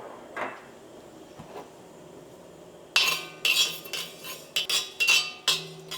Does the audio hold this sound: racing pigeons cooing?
no